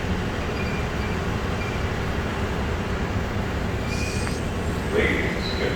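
Ride aboard the Denver International Airport concourse train between the terminal and the A and C gates: a steady, close rumble of the moving car throughout, with a brief higher whine and chime-like tones near the end.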